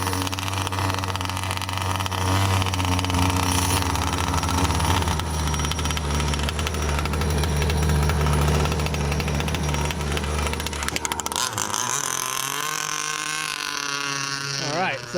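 A restored Pro Boat Shockwave 55 SS model boat with a new carburetor, its small nitro engine roaring loud and steady at close range, then the pitch and texture shift sharply near the end as the throttle changes.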